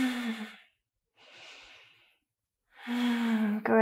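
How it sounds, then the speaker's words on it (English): A deep breath taken during a yoga pose: a soft, airy inhale, a brief pause, then a breathy exhale, close and quiet, set between spoken instructions. "Deep breath."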